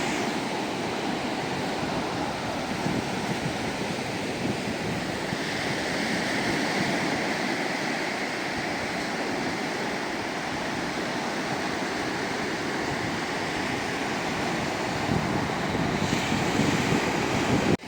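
Steady surf at Baga Beach in North Goa, a continuous broad wash of breaking waves mixed with wind buffeting the microphone, unbroken and fairly loud for the whole stretch with no voices.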